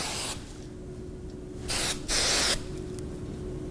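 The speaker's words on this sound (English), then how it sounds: "I'm going to spray this really well." Two short bursts of hairspray from an aerosol can sprayed onto styled, pinned hair, close and crisp, the second a little longer than the first.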